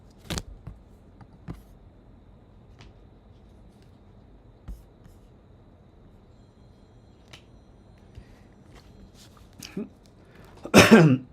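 Several short, sharp coughs scattered through a quiet room, ending with a louder burst of coughing at the close.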